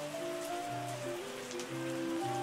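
Steady rain falling on surfaces in the winemaking tycoon game Terroir, a soft continuous patter under sustained tonal music notes, with no voices.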